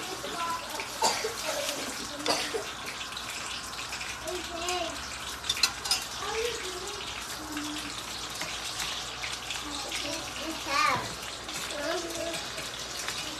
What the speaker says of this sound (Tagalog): Hugasan natin to te kay magamit yan te.